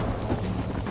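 Horse hooves pound rapidly in a galloping rhythm in the PC version of the Red Dead Redemption video game, close and fairly loud against a dense rumbling background.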